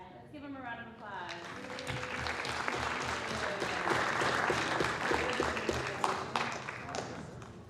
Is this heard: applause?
yes